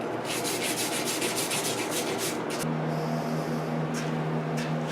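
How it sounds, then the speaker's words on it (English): Steady scrubbing of rust off a steel bar being prepared for forging into a fire steel, a continuous abrasive rasp with a low hum joining partway through. "So let's give it a little scrubbing."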